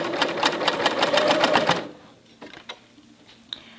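Sewing machine fitted with a compensating presser foot stitching in the round at a fast, even rhythm for about two seconds, then stopping, followed by a few soft clicks and handling sounds.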